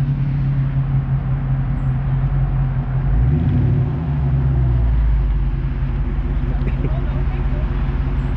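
Car engine held at steady high revs during a first burnout with the gas pedal pinned, a loud continuous low rumble with a brief surge in the middle, while people talk over it.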